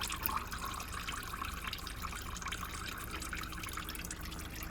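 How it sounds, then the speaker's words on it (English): Engine oil drips and trickles from the drain of a 2011 Honda Jazz 1.3 petrol automatic into an oil pan below, a steady close liquid patter with no talking. "Some oil will drip, so make sure your oil pan is sitting underneath."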